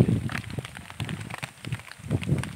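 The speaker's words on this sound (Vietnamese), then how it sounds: "Do hôm nay trời mưa" Rain falls outdoors on a rainy-day eel fishing trip, with a steady, close patter and irregular louder drops and splashes throughout.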